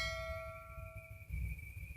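A single notification bell ding rings out clearly and its bright tone sustains for about two seconds over a low background rumble.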